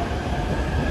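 A JR train at Shibuya station on the Yamanote, Saikyo and Shonan-Shinjuku lines gives a steady, loud rumbling roar from close by, a continuous wash of sound with no voices.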